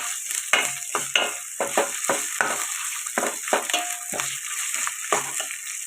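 Ginger garlic paste fries in a pan with dried snails, giving bursts of sizzling and scraping stir strokes in an irregular rhythm. The sound is close and fairly loud, and no one speaks.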